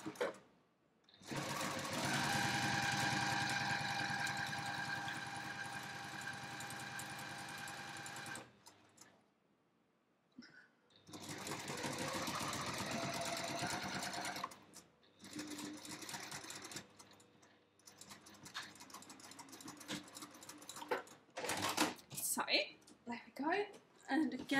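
A sewing machine stitches a bag seam in close, loud bursts of rapid whirring, stopping and restarting a few times, with a person talking during the pauses.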